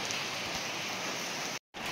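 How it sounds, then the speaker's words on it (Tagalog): Heavy rain pours down in a continuous dense hiss, loud and unbroken apart from a momentary dropout near the end. "Ang lakas ng ulan. Nag-uulan."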